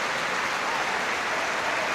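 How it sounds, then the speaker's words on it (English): Crowd applause all around a football ground at Deepdale during Preston North End against Liverpool, honouring the Hillsborough disaster victims: a steady, even roar of many hands clapping from the stands, distant and continuous with no break. "Applause all around the ground for the victims of the Hillsborough disaster."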